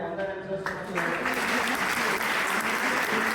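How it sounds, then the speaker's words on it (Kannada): A crowd applauding at a college BA fest, a dense, sustained wash of many hands clapping that swells fuller after the first second, with voices mixed in. "ಈಗ ಎಲ್ಲರೂ ಇನ್ನೊಮ್ಮೆ ಚಪ್ಪಾಳೆ"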